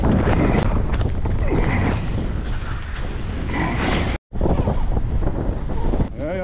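Strong coastal wind on Masirah Island, Oman, buffets the microphone in a loud, continuous roar, broken by a brief dropout before the gusting resumes.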